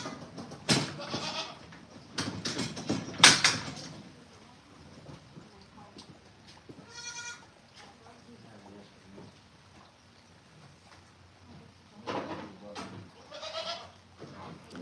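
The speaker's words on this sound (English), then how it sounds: "Did you already feed Mama Goat" Goats on a ranch bleat in several loud, close bursts early on and again near the end, with quieter calls and people talking faintly between them.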